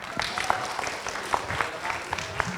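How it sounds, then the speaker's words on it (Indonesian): An audience claps in a warm round of applause at an Indonesian disaster-awareness and behaviour-change training session, fairly faint with scattered sharp claps and a voice mixed in. "saya minta dong satu lagi tepuk tangan yang meriah buat Mbak Endang"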